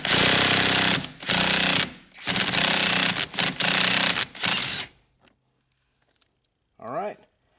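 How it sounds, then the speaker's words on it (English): Impact wrench hammering a 13/16 steering column nut free on a Pontiac Firebird F-body, several loud rattling bursts over about five seconds, then near silence with a short voice near the end. "It's a 13/16, so I'm going to go ahead and put my impact on it"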